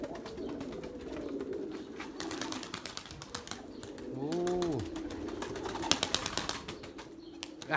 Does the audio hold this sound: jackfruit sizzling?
no